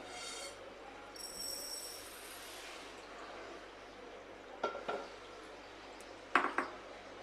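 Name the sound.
roasted flaxseed being scooped from the pan into a jar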